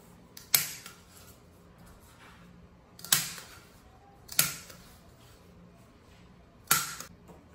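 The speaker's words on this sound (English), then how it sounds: "So all we do is we grab our toilet paper roll or our paper towel roll, and we just punch holes into it." A hole punch snaps sharply through a cardboard paper towel roll four times at irregular intervals, each punch a loud, close click followed by quiet, with no speech.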